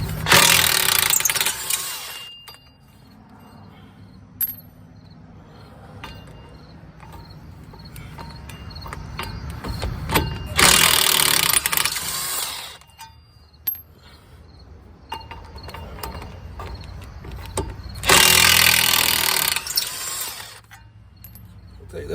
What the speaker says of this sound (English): I'm going to use my big DeWalt. Just take those bolts out like that.